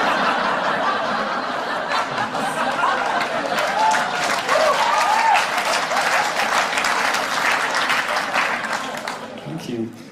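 A stand-up comedy crowd applauds heartily, a dense wash of clapping mixed with chuckles and snickers that tapers off near the end.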